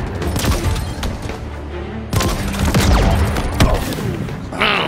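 Grenade blasts and gunfire in the Halo Infinite campaign on Legendary difficulty: a dense run of loud booms and cracking shots, with two sharp hits standing out amid the continuous chaotic battle noise.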